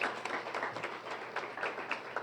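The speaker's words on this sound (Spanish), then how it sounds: "Dese un aplauso a usted mismo por esa decisión que acaba de tomar." Audience clapping during a church sermon, a steady, faint patter of applause that carries through the short clip.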